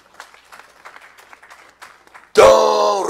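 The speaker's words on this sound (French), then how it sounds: "Let us clap our hands for Jesus." A church congregation breaks into loud, sustained clapping and applause that starts abruptly after a stretch of quieter speech and continues to the end.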